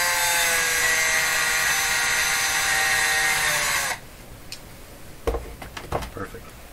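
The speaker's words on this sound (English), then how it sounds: "What if we grind just a little more for fun?" A power tool grinds a part from a Garrard AT60 record player during restoration, a loud steady high-pitched whine for about four seconds that cuts off abruptly, followed by quieter handling knocks and clicks.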